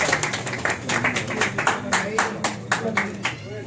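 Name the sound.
clapping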